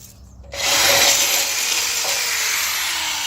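A power drill bores a hole during an outdoor install with the propane tanks taken off, its grinding whine starting abruptly after a short quiet lead-in and running steadily and close until the end.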